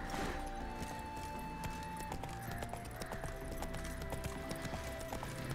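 Hooves of Roach, Geralt's horse in The Witcher 3: Wild Hunt, clop along in a steady rhythmic gait, fairly quiet and mixed with faint game ambience and tones.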